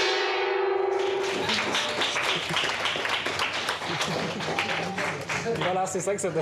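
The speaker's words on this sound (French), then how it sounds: "Donc à la fin de chaque mois, on tape dans le gong." A gong rings out with a sustained, shimmering tone in an office trading room during an end-of-month celebration of record volumes at a peer-to-peer lending firm. The ringing quickly gives way to loud, close clapping and cheering, with people talking over it.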